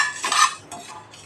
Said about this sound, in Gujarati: આપણે તવો મૂકી દીધું છે। આપણે મસાલા શેકી લઈએ।